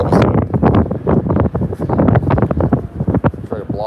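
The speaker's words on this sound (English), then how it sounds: "Super windy all of a sudden." Strong gusting wind buffets the microphone at an open-air spring training ballpark, loud and roaring throughout with no speech.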